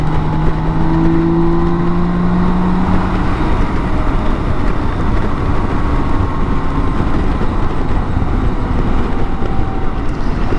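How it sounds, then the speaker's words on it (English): A BMW K1600 GTL motorcycle accelerates in a sixth-gear roll-on, its smooth engine note rising steadily beneath heavy, constant wind roar throughout. "Now that was a 6th gear roll on, so that was impressive."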